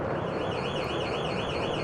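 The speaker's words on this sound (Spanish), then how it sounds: "Una alarma había sido activada." A loud, continuous alarm wails with a steady warbling tone, rising and falling rapidly without pause.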